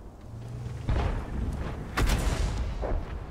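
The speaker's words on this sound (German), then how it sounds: "Der Gegner versucht auf ihn zu schießen." Tank cannon fire in World of Tanks, two heavy booming shots around one and two seconds in with rumbling tails, standing out over a steady low game background.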